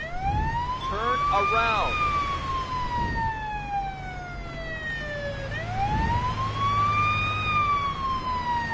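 A police car siren in the Police Simulator: Patrol Officers video game wails loudly and continuously, sweeping up and down in long rising and falling cycles, while a voice speaks briefly over it.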